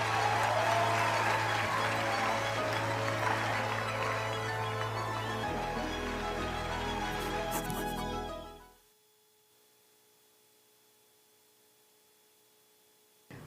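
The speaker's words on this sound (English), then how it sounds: "Please give yourself a round of applause." Audience applause fills a hall, steady and fairly loud with a low hum beneath it for about eight seconds, then cuts off abruptly into near silence.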